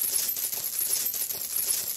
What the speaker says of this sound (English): I use this metal chain sound.